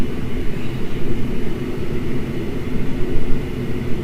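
Aircraft engines drone loudly and steadily in the Prepar3D flight simulator as the throttle is eased up on a glide-slope approach, a constant close rumble with no voices.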